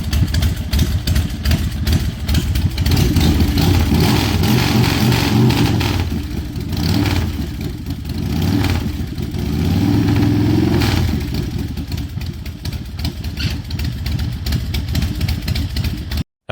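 A 2006 Big Dog Motorcycles chopper, a large-displacement custom stretched cruiser, runs loud and close with a steady rumbling idle that swells into several throttle revs before settling back down.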